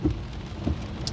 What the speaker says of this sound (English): if you can hear the rain in the background, that's why I stopped driving.